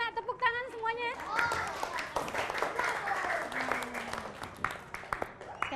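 Fifth-grade elementary pupils clap their hands together in a classroom after a short burst of voices, with the clapping continuing as a lively, uneven patter mixed with children's chatter and movement.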